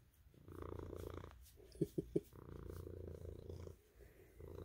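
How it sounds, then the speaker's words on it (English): A large male cat purring loudly and close, a steady rumbling purr with a few short snorty breaths in the middle, heard alone in a quiet room. "He's very loud purring"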